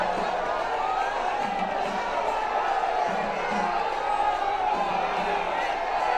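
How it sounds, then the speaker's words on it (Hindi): A large crowd in Kochi, Kerala, cheering for PM Modi, a steady roar of voices and whoops carrying throughout, with a reporter talking over it. "ये देखिए बड़ी संख्या में लोग किस तरह से उल्लसित हैं, प्रसन्नचित्त हैं"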